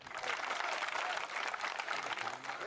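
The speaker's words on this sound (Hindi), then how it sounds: "एक बार पूरा सदन जोरदार तालियों से अगर सुनना चाहता है" An audience at a Hindi comic poetry gathering breaks into a dense, steady roar of clapping that holds at an even level for the whole stretch, with no voices over it.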